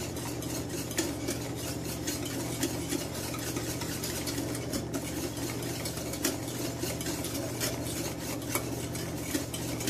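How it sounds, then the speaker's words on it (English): Whisk or spoon working through a thick béchamel sauce in a pan for a cheese soufflé, with continuous scraping and clicking strokes against the metal over a low steady hum. "Now it's going to be very thick, so don't stop stirring."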